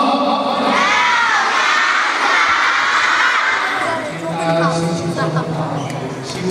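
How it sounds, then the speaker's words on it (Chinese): A school crowd of students and teachers claps and cheers loudly for the principal at a singing competition, children's shouts rising over the applause, which thins out toward the end as a voice begins speaking. "掌声，老师欢迎校长"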